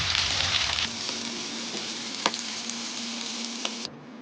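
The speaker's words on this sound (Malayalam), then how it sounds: "മത്തി നല്ല എണ്ണയിൽ കിടന്ന് തിളച്ച് മറിയുന്ന മത്തി ഗൈസ്." Sardines frying in hot oil give a steady, close, loud sizzle with scattered sharp crackles and pops throughout, with no talking.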